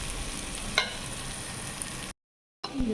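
Chicken pieces fry in a pan with a steady, close hiss and crackle and a few sharper pops. The sizzle cuts out briefly and then returns.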